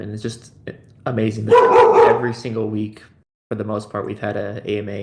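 A pet dog barks and yips repeatedly in the background while a person talks close to the microphone during a live online community Q&A session.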